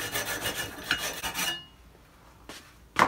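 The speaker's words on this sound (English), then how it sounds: "In fact, I have a hacksaw here." A hacksaw cuts through a plastic cylinder in a run of quick rasping back-and-forth strokes, then pauses before two more short scrapes close by.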